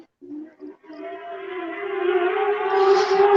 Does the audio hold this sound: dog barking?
no